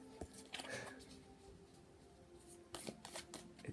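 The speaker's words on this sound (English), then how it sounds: "These cards are really hard to shuffle." Cards being shuffled in quick riffling bursts, close up, with a brief pause between flurries and no talking.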